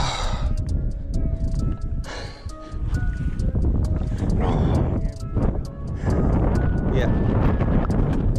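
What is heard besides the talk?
strong wind blowing over a lake while bass fishing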